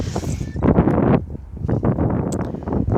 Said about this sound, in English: it is windy, so you're probably hearing the wind as well